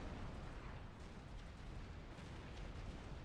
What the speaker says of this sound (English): the drop from Turbo is now gonna get killed by the T1 artillery. Yep, a single salvo